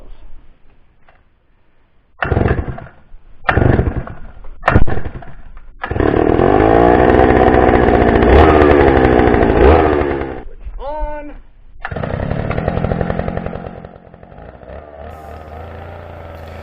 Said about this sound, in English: Basically the pilot bit didn't even make it in, so just kind of sat there and spun on top of the rock.